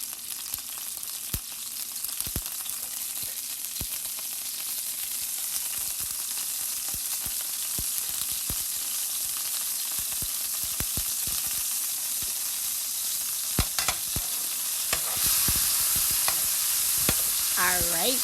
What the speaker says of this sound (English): get that butter hot and popping